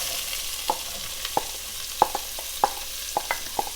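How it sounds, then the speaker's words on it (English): Onions, carrots and fresh herbs cook in butter in a pan for beef stew, giving a soft low sizzle. Sharp, regular scraping clicks from a spoon stirring close by sound through it, with no voices. "And then to this we're going to add our onions, carrots, and some of the fresh herbs."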